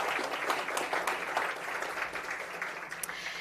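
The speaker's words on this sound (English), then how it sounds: "A round of applause, please." Audience applause at the opening of the Inclusive Growth for South Africa Report Summit, a steady wash of many hands clapping at moderate level, fairly even throughout without voices.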